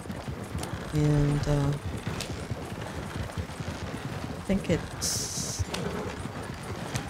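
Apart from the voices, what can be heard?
Suffolk Punch horses' hooves pulling wagon, Red Dead Redemption 2 video game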